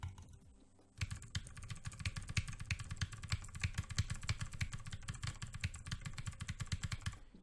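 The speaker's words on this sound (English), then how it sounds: "I will be talking about the microphone sound test on the keyboard. So I'm using a Razer BlackWidow X." Fast, continuous typing on a Razer BlackWidow X mechanical keyboard, loud close clacking keystrokes in a dense rapid stream after a brief quiet start.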